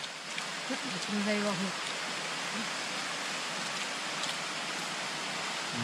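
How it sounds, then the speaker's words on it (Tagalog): Heavy rain pours down on a mountain picnic as a dense, steady hiss throughout, with a voice briefly heard early on beneath the downpour. "Lakas ng ulan."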